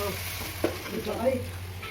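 Grated raw mango frying in hot oil with spices such as asafoetida and chilli powder, a soft steady sizzle with light stirring scrapes in a home kitchen.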